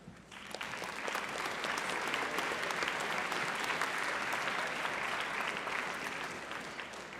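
A large audience at an evening award assembly applauds continuously and evenly, a dense wash of clapping that holds from start to finish as a speaker is welcomed on stage.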